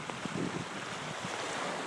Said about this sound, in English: See the edge where the water's breaking right there.